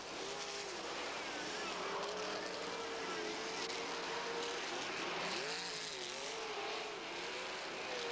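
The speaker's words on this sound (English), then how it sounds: "Bobby Davis moves into the lead down the backstretch" 1985 sprint cars race at the Eastbay Winternationals, a continuous distant engine drone rising and falling as the cars run down the backstretch, with faint crowd or announcer noise underneath.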